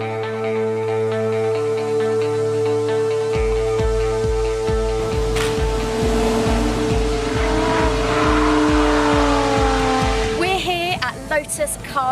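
A car engine revs and accelerates loudly with rising and falling pitch sweeps, gear changes and tire squeal, playing on a sound system in a charity competition film about the Lotus Elise.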